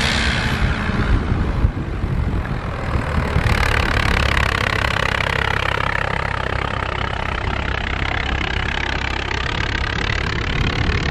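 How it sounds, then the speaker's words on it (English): A noisy tractor engine drones steadily close by on a waterside dredge outing, a loud continuous rumble with broadband clatter that holds throughout without pause. "Noisy tractor."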